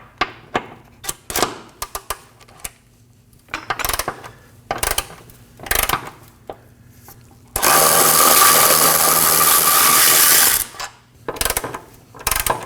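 Two 15mm bolts coming off the driveshaft center carrier bearing mount of a 2013-2022 Chevrolet Trax: short bursts of clicking ratchet and clinking metal tool sounds, then a loud power tool whirring for about three seconds before more ratcheting.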